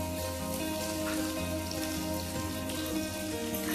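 Onion frying in oil in a miniature cooking pan for a small batch of chicken ghugni gives a steady, even sizzling hiss that runs without pause for the whole stretch.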